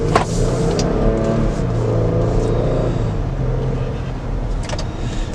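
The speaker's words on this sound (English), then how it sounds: "Now, acceleration is what you would expect from a big SUV, and yeah, it's slow." A big Jeep Cherokee Limited SUV accelerates slowly along a drive, its engine a steady, close rumble from inside the cabin with a low continuous hum and faint interior clicks, no talking over it.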